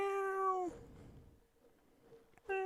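A house cat named Rory lets out a loud, close meow, then after a short lull starts another meow right at the end.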